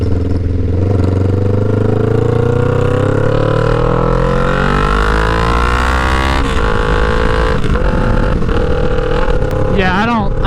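A 2009 Kawasaki Ninja 500 with an aftermarket exhaust, loud and close, rising steadily through high RPM with a harsh, buzzy wail, then dropping and blipping in short revs near the end.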